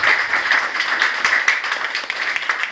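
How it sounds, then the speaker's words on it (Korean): Church congregation clapping together at a worship service, a dense, even patter of many hands sustained at moderate loudness throughout, with no talking over it. "우리 다 같이 박수 한번 치면서 이성 대사님 모셨습니다"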